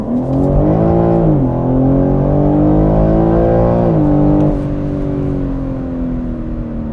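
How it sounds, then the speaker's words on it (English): A 2021 BMW M3 Competition accelerates hard, its engine note climbing loud and close, then dropping with a quick gear shift and climbing again before a second shift and steady pull. "Listen to how this thing shifts, okay?"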